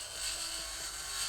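A steady, high-pitched whine of an angle grinder used as a resource crusher in the Mars survival game Occupy Mars: Prologue, droning evenly and close with no talking.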